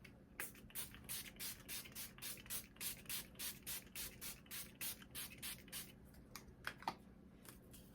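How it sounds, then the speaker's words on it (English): Milani Make It Last Original setting spray pumped in a quick rhythmic run of about a dozen short, hissing bursts, close but soft, followed by a couple of faint clicks as the bottle runs empty. "We're gonna finish off with some setting spray."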